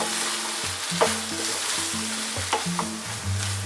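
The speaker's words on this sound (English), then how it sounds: "stirring pretty much all the time on this kind of quite lively heat" Lentil dal sizzles steadily in a pan over lively heat while a spoon stirs it in short scraping strokes, close and fairly quiet with no talking.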